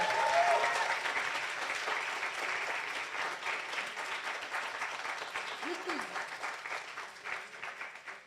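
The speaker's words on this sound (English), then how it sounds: "Big applause once again for Running Snail" Audience applause at the Formula Student Poland business plan presentation finals, a dense, steady wash of clapping from a large crowd that carries through the whole stretch, with brief voices and a short whistle-like call surfacing within it.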